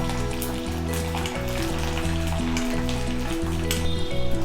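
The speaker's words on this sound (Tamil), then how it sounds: "பூண்டு நம்ம நல்லா வதக்கிக்கலாம்." Peeled garlic sizzles in hot oil in a pan while being sautéed for an instant mango pickle, a dense, even crackle heard close, with music playing underneath.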